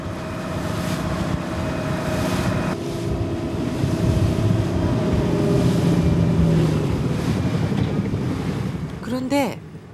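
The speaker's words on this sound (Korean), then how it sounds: "아직은 차가운 바닷바람이 매섭게 옷깃을 파고듭니다." Cold sea wind roars steadily across the microphone by the shore of a tiny island on a late trip home, with surf and a boat engine droning underneath throughout.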